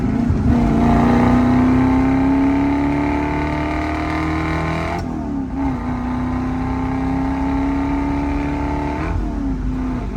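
A 1965 Ford Mustang fastback with a 289 V8 and four-speed rumbles loudly as it accelerates, its exhaust note climbing steadily before dropping at a gear change and climbing again, with no talk.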